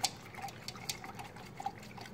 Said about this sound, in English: I'm going to take the brush and I'm going to pretend to paint the bottom of the can